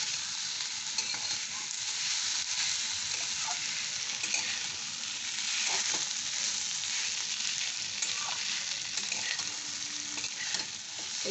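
Eggplant and potato chorchori fries with spices in a pan, giving a steady close sizzle with occasional scrapes and clinks of stirring throughout, and no talk.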